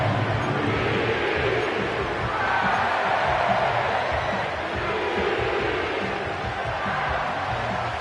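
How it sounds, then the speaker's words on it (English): A large football stadium crowd at an NFL playoff game between the Rams and Panthers roars steadily before a third down, a dense continuous wall of cheering, with a broadcast commentator's voice blended faintly under it. "This crowd into it now as we get to 3rd down."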